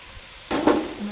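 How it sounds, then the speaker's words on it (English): Chunks of ham and potato drop into a simmering soup pot with a soft splash, followed by a brief rise in bubbling sizzle, close and moderately loud after a quiet start. "so now I'm going to add in my ham and my potatoes."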